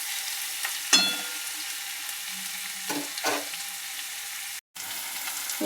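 Chopped onion and tomato sizzle in a hot pan, a steady bright frying hiss with a few louder stirring scrapes and one brief dropout, no voices.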